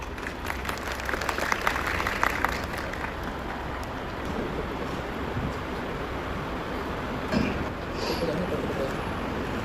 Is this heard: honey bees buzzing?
no